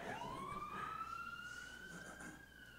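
An emergency vehicle siren wails outside a temple on Schermerhorn Street, one long sustained rising tone held loudly over low street rumble, with no voices.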